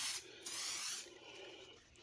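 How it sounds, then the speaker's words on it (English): Aerosol polish sprayed onto a model in two short hissing bursts, close and fairly quiet, with a brief pause between them and no voices. "And then I'll just go ahead and spray the next one."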